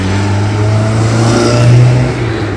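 A car pulling away and accelerating, heard from inside as a loud, steady engine drone that climbs in pitch before easing slightly, with no speech.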